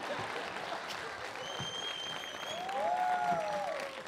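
A live audience at an outdoor event in Pachuca breaks into applause, a steady crowd-wide clapping that swells toward the end, with a few shouts mixed in.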